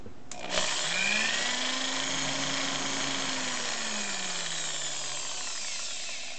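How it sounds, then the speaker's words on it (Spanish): A power drill in drill mode bores through a plaster wall layer, loud and close, with a steady whirring grind and a rising then falling motor pitch that runs without a break. "Modalidad taladro. Ya perforé la capa de yeso."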